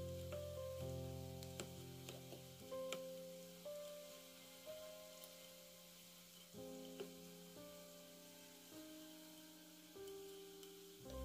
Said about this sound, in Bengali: এবার এগুলোকে একটু লাল লাল করে ভেজে নেবো।